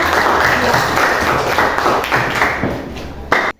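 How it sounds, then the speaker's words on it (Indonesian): A classroom group claps for a presenting group in a school lesson, a dense ragged patter of many hands that fades and ends abruptly with a final thump. "Tepuk tangan buat kelompok."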